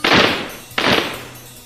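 Two loud gunshot effects fire in quick succession, each a sharp blast with a fading tail, the second following under a second after the first.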